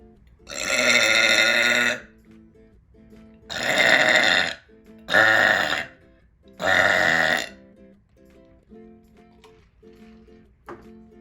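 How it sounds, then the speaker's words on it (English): Four loud, drawn-out burps from someone drinking soda during a Wendy's fast-food mukbang, each lasting about a second and separated by short pauses, heard alone with no talking. "I'm drinking it for you guys so that I can burp better"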